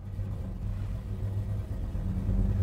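A 1969 Chevrolet Chevelle engine idles nearby with a deep, steady low rumble that swells slightly toward the end, no voices over it.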